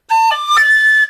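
A tin whistle sounding a cut on low D that overblows, a single loud, bright tone jumping into a shrill upper note with a breathy blip in the middle, about a second long.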